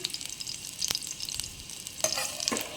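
Garlic sizzles in a pan while being stirred, a close, steady fry with sharp scraping and clinking strokes of the utensil scattered throughout, loudest near the end.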